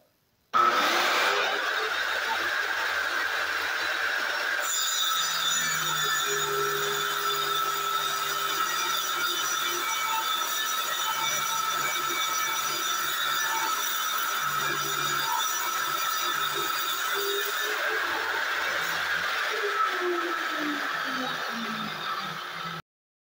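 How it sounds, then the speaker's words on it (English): A miter saw fitted with an old scrap blade cuts through aluminum rod with a loud, sustained whine that runs nearly unbroken for about twenty seconds before winding down, with no voices. "So first we're going to cut our rod, just an old scrap blade that I threw on the miter saw"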